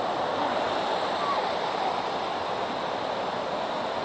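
Collins Creek waterfall in Heber Springs, Arkansas, rushes as a steady, dense roar of falling water, continuous and even at moderate loudness, with no distinct voices.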